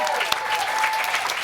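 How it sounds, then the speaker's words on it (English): A round of applause for a young people's panel: loud, dense clapping from an audience, continuous and fairly close for the whole brief moment, with a faint tone beneath. "please do give a massive round of applause for our panel."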